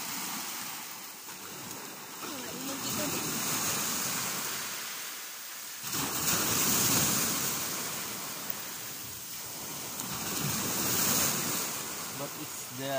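Rough sea surf breaking on a white-sand island beach, a broad continuous roar that swells in waves with some wind buffeting, heard from close by.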